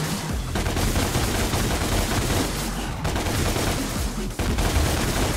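Dense rapid gunfire from a DMC action game, a continuous fusillade of overlapping shots filling the whole stretch with only brief dips.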